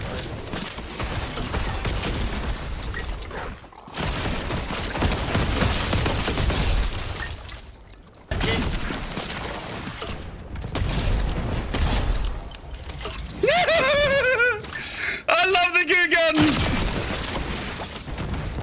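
Goo gun shots and game action in Fortnite come in dense bursts, with a run of warbling, bouncy synthetic blips near the end, loud and continuous with no talking.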